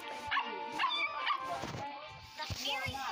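A cartoon puppy yips and barks in short, excited bursts, close and fairly soft, mixed with whimpering and other overlapping voices in an animated children's show.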